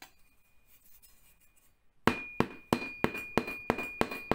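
After a quiet moment, a series of sharp hammer taps rings out as a wall plug is knocked into a drilled hole, about seven evenly spaced strikes with a bright metallic ring, close by.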